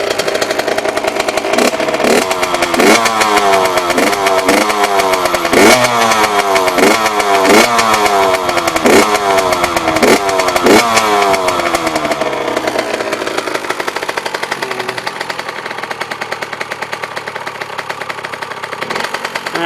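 A 2001 Kawasaki KX 85 two-stroke dirt bike engine with new exhaust gaskets runs loud and close while warming up, with a series of sharp throttle blips rising and falling before it settles into a steady buzzing idle.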